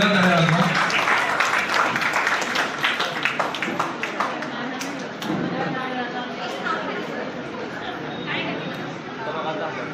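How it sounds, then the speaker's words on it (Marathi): Applause at an engagement ceremony: a steady crowd clapping fills the whole stretch, mixed with people chattering. "सर्वांनी जोरदार टाळ्या वाजवा."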